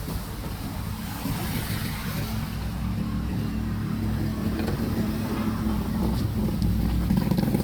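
A water pump engine pushing water up a mountain runs with a steady low rumble and splashing water noise over it, loud and continuous, gradually growing slightly stronger.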